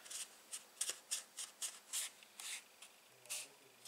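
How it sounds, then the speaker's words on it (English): Red cardstock is folded in half and burnished, giving a series of short, soft rubbing and scraping strokes in an irregular rhythm, close and quiet with no talking. "we're just going to fold and burnish this in half"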